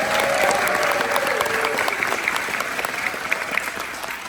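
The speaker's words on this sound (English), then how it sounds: "Give them all a round of applause." Sustained applause from an audience at a spring variety show, steady clapping filling the room for several seconds, fading slightly toward the end.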